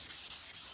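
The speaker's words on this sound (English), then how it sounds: "And you're just lightly sanding" Sandpaper rubbing lightly over primer on a pickup body, a soft rhythmic hiss of short back-and-forth strokes, faint and close with no voices.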